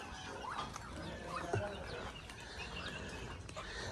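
Chickens clucking outdoors in a busy farmyard in the Philippines, several short calls scattered over steady background noise, with a voice speaking faintly at times.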